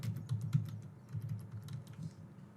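Rapid keystrokes on a computer keyboard while a workflow is named in Pabbly Connect, a steady run of close, crisp clicks with an uneven rhythm and no voices.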